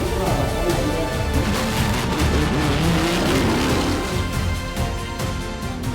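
Race cars of the WRT team pulling away on a circuit after a red-flag stoppage, a dense, loud engine roar that holds steady throughout with overlapping cars and faint crowd or commentary-like murmur beneath.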